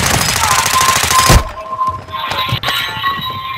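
Rapid automatic gunfire in Call of Duty Modern Warfare II rattles loudly in a fast burst, ending in a heavy thump before quieter clanks and game ambience.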